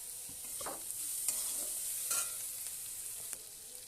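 Softened onions with salt and green chilies frying in a pan for paneer butter masala, a steady close sizzle with a few scraping stirs of the spatula throughout, no voices.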